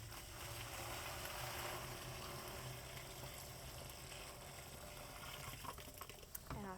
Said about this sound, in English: I'm just gonna fill this about 3/4-ish of the way up with water